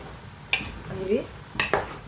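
A spoon stirs onions in a cooking pot for alissery, a Kerala festival dish: two sharp metallic clinks against the pot with a short scraping stir between them, all close and brief.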